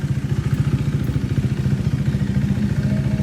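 Engine revving through a deep aftermarket exhaust, a close, loud, rapid pulsing burble that holds steady for a few seconds.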